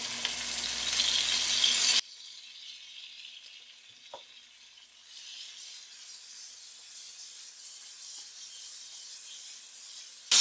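Tomato masala frying in separated oil in a pan for kofta karahi. A loud, hissing sizzle for the first two seconds drops to a softer, steady frying hiss with a faint stir knock.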